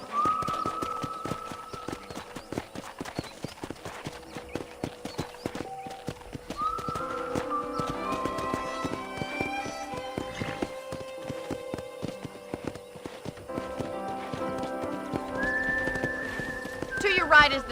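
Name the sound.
horse riding hoofbeats in the video game Red Dead Redemption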